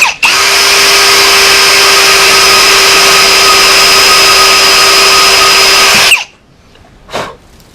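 A drill bites into the metal of a Nissan Skyline R33 cylinder head with a loud, steady high-pitched whine lasting about six seconds, lubricated to stay cool, then stops, followed by a brief quieter burst.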